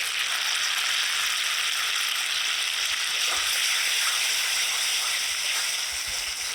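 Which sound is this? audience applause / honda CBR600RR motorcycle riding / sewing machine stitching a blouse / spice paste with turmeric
spice paste with turmeric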